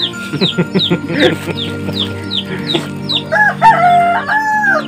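Chickens cluck and a rooster crows nearby, with bursts of busy clucking and squawks around feeding time.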